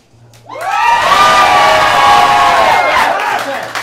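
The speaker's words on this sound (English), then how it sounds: "Okay, so everyone yells at me." An improv comedy crowd erupts into loud, sustained cheering and yelling at a live show, a sudden roar of overlapping high voices and whoops that holds for several seconds before easing slightly.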